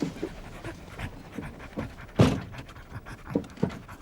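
Dog panting close by in quick, breathy, uneven puffs with small snuffles and one louder huff, no one speaking.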